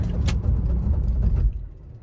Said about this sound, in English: we're going to do a quick little emergency stop from 45 miles an hour